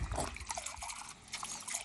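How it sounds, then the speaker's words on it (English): Liquid poured from a bottle into a container while mixing a tobacco cologne, a steady trickling splash running for about two seconds at close range, with no talking. "I'm just going to pour it in there"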